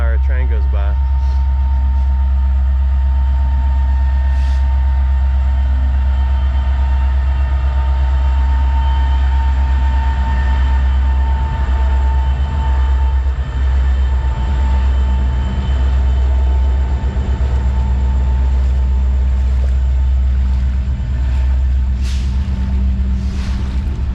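A train rumbles past close by, a heavy low drone with clanking and squeaks from the cars, loud and continuous throughout.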